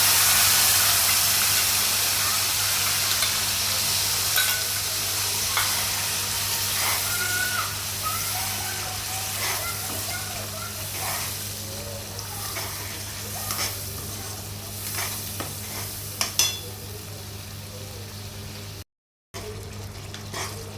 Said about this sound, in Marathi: हा मसाला आपण व्यवस्थित फ्राय करून घेऊयात.